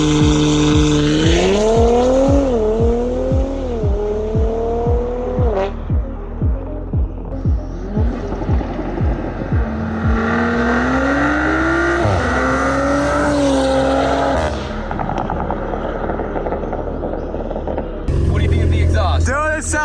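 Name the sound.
modified Audi sedan accelerating 0 to 60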